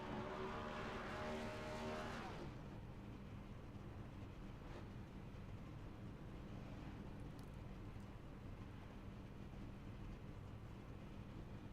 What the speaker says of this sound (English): Is this the nose-to-nose burnouts?